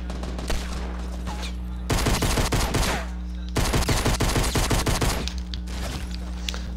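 Rapid automatic gunfire from the video game Fortnite in two loud sustained bursts over steady game background hum, no voices.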